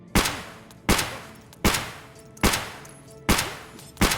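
Six loud gunshots from a .366 rifle fired into Trooper body armor in the video game Escape From Tarkov, evenly spaced at under one per second, each a sharp crack with a short decaying tail, no talk.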